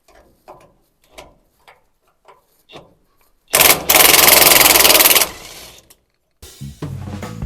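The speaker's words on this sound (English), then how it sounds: "I find it a lot easier using an impact driver." An impact driver removes the fuel pump bracket bolts with one loud, rattling burst lasting under two seconds, then a shorter burst. Faint clicks and taps come before it.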